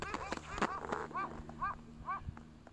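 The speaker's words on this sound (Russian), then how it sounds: "ворона полетела и как собака лает" A crow calling outdoors in a series of short, harsh, bark-like caws that resemble a dog barking, about five calls spaced across a few seconds at moderate distance over a low background hum.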